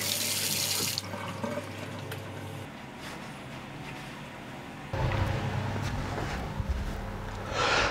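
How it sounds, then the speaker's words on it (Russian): Running tap water streams into a sink while washed hands are rinsed, a steady close splashing rush that changes in intensity as the hands move through the flow, alone without talk. "Потом прополоскать проточной водой."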